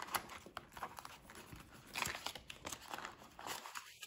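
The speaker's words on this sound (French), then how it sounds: "Les 10 euros pour les courses vont aller dans l'enveloppe homme." Paper cash bills are handled and slipped into an envelope up close, producing continuous soft crinkling and rustling with scattered small crackles, fairly quiet and without talk.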